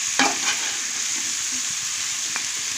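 Eggplant pieces and mutton curry frying in a pan, a steady soft sizzle with a couple of faint stirring scrapes near the start, no voices.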